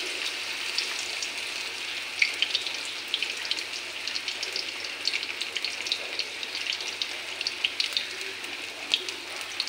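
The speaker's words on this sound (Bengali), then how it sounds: "দেখো আমার তেলটা গরম হয়ে গেছে, একদম গ্যাসটা কমিয়ে আমি বড়াগুলি পকোড়ার মতন" Jute leaf fritters frying in hot oil over a low gas flame give a continuous soft crackle with scattered sharper pops, moderately close and steady, with no talking.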